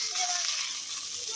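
Tiger prawns and potatoes, already fried, sizzle and crackle steadily in hot spiced oil in a pan, a dense hiss filling the whole short stretch with no talking.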